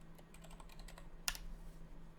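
Keys clatter on a computer keyboard in a quick run of light taps, then a sharper single press, close and quiet over a faint steady hum.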